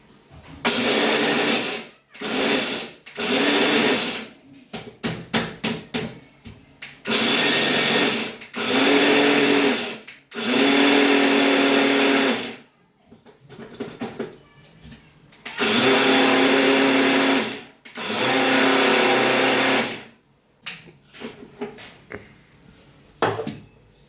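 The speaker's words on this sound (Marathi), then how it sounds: "आता ना हे मी मिक्सरला छान असं ना म्हणजे थोडंसं रवाळ असं मी बारीक करून घेते" A kitchen mixer grinder whirs loudly in repeated bursts of a few seconds each, grinding peanuts and jaggery into a coarse powder, with short pauses and clattering between the pulses.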